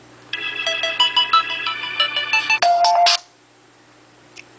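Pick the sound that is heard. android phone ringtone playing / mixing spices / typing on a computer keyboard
android phone ringtone playing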